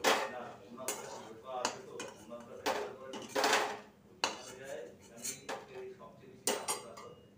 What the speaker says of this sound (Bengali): এবারে একটা থালায় আমি তুলে নিচ্ছি।